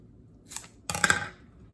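Scissors or a blade cut through the end of a banana leaf, two brief, close crisp snips, the second longer and crunchier, in an otherwise quiet room.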